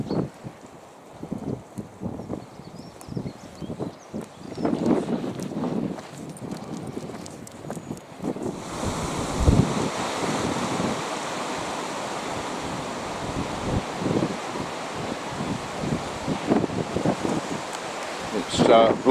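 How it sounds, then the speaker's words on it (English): Gale-force seaside wind with gusts around 30 mph roars steadily by the sea, a broad rushing noise that swells and stays loud through the second half, with faint surf beneath. "It's blowing a bit of a gale here."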